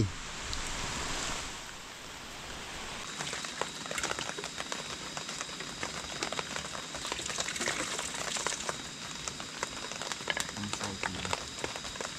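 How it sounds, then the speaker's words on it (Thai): Steady rain hisses and patters with gusty wind noise during a storm, a continuous wash of sound with no voices standing out. "ฝนมาแล้วบัดนี้ ทั้งลมทั้งฝน"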